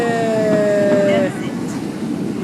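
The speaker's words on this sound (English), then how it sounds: "That's it. Choo choo train." A passing train sounds a long two-tone horn for about a second over a rumbling background, and the rumble carries on after the horn stops.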